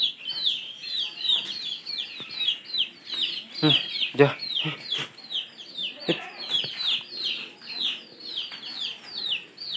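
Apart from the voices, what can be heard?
pigeons calling while being fed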